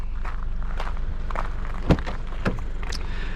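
Soft footsteps of someone walking around a 2022 Subaru BRZ, a handful of quiet scuffing steps over steady background hum, with one slightly louder footfall midway.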